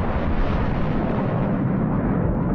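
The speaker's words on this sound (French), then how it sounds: "Quand un volcan entre en éruption, l'explosion envoie une onde de choc." A volcanic eruption explosion sends out a shockwave, heard as a loud, sustained low rumble and roar that stays dense and steady throughout, with no voices over it.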